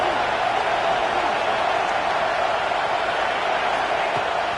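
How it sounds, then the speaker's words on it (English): A home crowd at a football stadium roars in a dense, sustained wash of cheering, steady and loud throughout with no break. "how nice is it to have the home crowd going absolutely bananas"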